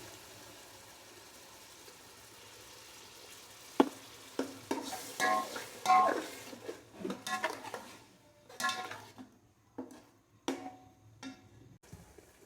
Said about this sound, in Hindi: अभी इसमें ये जो मैंने प्याज का पेस्ट बनाया था तो वो इसमें शामिल कर देते हैं।